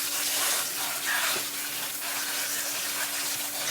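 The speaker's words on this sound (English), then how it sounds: "take the potato over to the sink where you can rinse it with cold water" A sink tap runs cold water over shredded potato, a steady, close hiss of flowing water that continues throughout with no talk.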